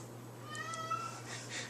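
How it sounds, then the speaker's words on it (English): A pet cat meows faintly a few times in a home kitchen during dip preparation, the calls soft and somewhat distant over a low background hum. "My cat's going crazy"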